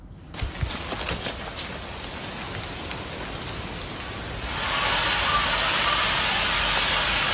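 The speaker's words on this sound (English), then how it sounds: "he's spraying it down with a water hose" Quiet background hiss with faint clicks, then a loud, steady rushing spray of water from a hose takes over and continues.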